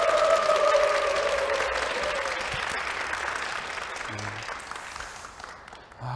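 Audience applause in a Christian TV testimony studio, a steady sustained wash of clapping that slowly fades over several seconds.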